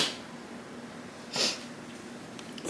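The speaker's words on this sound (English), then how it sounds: "I had to sneeze." A single sudden human sneeze bursts out about halfway through, loud against an otherwise quiet room with faint background hiss.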